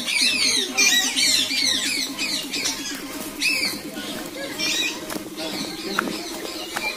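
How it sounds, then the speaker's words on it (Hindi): At a zoo in Vizag, birds chirp and twitter steadily in the background while pigeons coo in a low, repeated rhythm throughout, with occasional rustling. "पक्षी का बैकग्राउंड साउंड भी कुछ दिया है"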